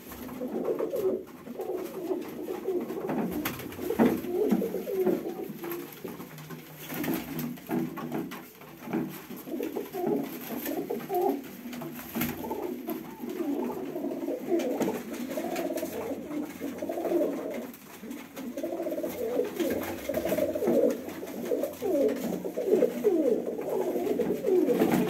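Pigeons cooing in a home coop, a steady chorus of soft, low, overlapping coos that continues near and clear for the whole stretch, with no talking.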